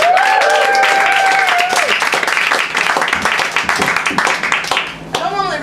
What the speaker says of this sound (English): massive round of applause for Sophia Walker!